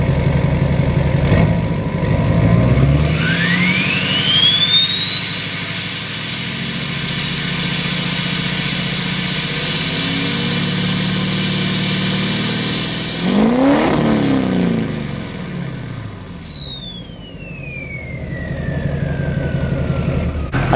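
A Duramax diesel truck engine revs loudly and close up, turbo whine sweeping upward over a heavy diesel rumble, then a sharp burst as the throttle drops and the whistle falls away while the engine settles.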